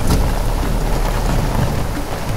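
Heavy rain pours down in a loud, dense, unbroken roar, close and continuous throughout, with no voices.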